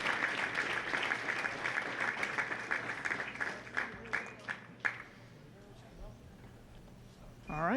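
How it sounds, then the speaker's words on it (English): Audience applause at the PWBA Wichita Open bowling championship stepladder finals, a dense steady clapping from a crowd that thins into scattered claps around five seconds before dying away. "How about a round of applause for our professionals?"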